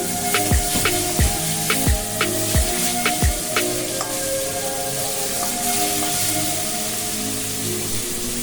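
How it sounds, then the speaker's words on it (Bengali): Bhola fish frying in oil, a steady sizzling hiss with several sharp pops and crackles early on, then a calmer continuous fry, close and fairly loud. "আমার সম্পূর্ণ মাছগুলো ভাজা হয়ে গেল"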